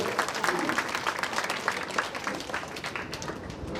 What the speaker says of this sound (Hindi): जोरदार ताली बजा के पहले स्वागत के लिए आगे